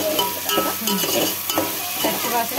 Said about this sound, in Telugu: టమాటాలు పైన టమాటా వేసుకోవాలి. కొంచెం వేగాలి.